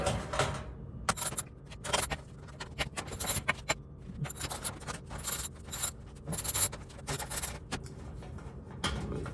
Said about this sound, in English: let's get these screws off here